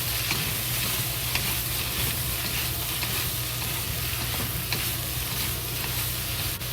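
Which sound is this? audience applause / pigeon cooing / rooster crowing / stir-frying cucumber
stir-frying cucumber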